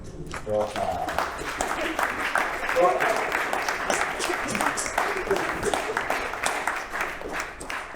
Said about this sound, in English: Can we give this panel an amazing round of applause, please?